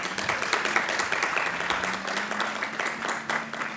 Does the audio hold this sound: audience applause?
yes